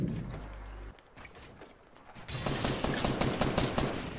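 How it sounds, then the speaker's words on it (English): Rapid bursts of automatic gunfire in a Fortnite match, loud and sustained, with a brief lull before heavier continuous shooting resumes. "Jack, keep shooting at the guy in Dusty."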